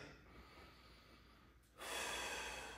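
A single deep breath during a Pilates exercise, a soft airy rush rising suddenly after quiet, close and alone.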